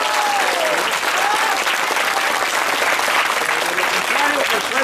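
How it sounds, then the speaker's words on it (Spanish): A protest crowd in Poza Rica breaks into steady, dense applause, loud and continuous throughout, with scattered voices and shouts mixed into the clapping. "les pido dar un aplauso aquí a la gente que nos está"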